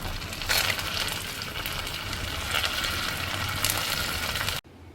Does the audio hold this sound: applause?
no